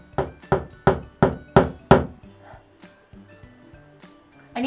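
Six sharp hammer strikes drive nails into a wooden string-art board in a steady, even rhythm, close and loud, followed by quieter scattered knocks and handling sounds.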